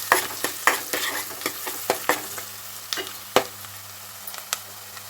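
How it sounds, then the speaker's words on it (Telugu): Turmeric being stirred into meal maker and tomato curry frying in a pan, with a string of sharp spoon scrapes and clinks over a steady low sizzle, heard up close with no talking. "ఇప్పుడైతే మంచిగా కలుపుకోండి"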